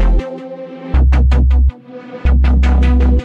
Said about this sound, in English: This is how the stack sounds.